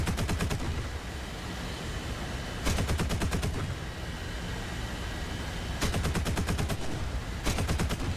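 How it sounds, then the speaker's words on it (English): Rapid bursts of cannon fire from an IL-28SH ground-attack aircraft in War Thunder, four distinct rattling volleys at steady intervals over a continuous engine drone, loud and close. "I think that's an improvement to the cannon sounds right there."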